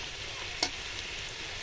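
Taro pieces fry in a pan with a constant, even sizzle, broken once by a single sharp click partway through.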